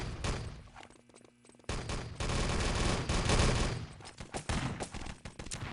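Rifle shots and bursts of automatic fire ring out in an Enemy Territory match on the Malibu map, loud and dense after a brief quieter stretch, with explosions mixed into the close, continuous firing.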